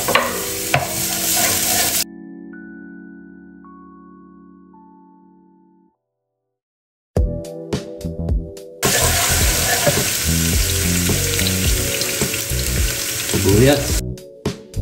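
Pork humba being sautéed in hot oil in a pan: loud frying sizzle with stirring clatter in bursts at the start and again through the second half, with a quiet gap in between.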